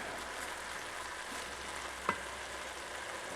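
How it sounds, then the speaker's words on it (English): Vegetables for a spaghetti meat sauce sizzling steadily in a pan, a soft continuous fry with one small pop, no talking. "we're going to cook this down till the vegetables are tender"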